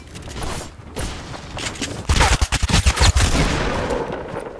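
SMG fire in Fortnite, with rapid loud bursts of close automatic shots chattering over a couple of seconds amid game noise and mechanical clatter.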